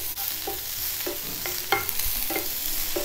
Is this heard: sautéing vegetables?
yes